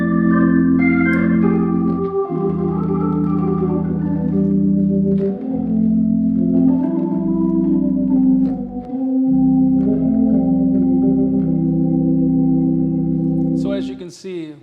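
Hammond B3 organ played with its bass pedals, giving loud sustained deep tones that shift pitch every couple of seconds under higher held chords, then cut off near the end.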